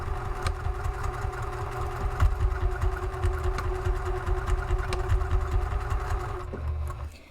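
A sewing machine stitches a U-shaped seam on a three-way divided fabric caddy, a close, steady rapid clatter with a continuous motor hum running for several seconds before stopping abruptly.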